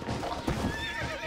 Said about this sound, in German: Schönes Pferdchen, Pferdchen, Pferdchen.